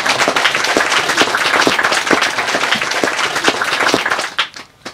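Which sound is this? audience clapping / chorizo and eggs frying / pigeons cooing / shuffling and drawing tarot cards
audience clapping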